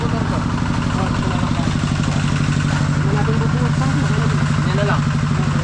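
A motorcycle engine idling in a steady, even chug that stays loud and near throughout, with voices talking over it.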